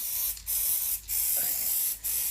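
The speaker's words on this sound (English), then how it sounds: "Give a good shake, spray the area." Three bursts of water-based acrylic spray adhesive hissing steadily from an aerosol can, each lasting most of a second with short pauses between, close by.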